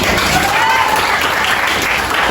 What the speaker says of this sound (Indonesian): Ayo kita kasih aplaus dulu untuk materi hari ini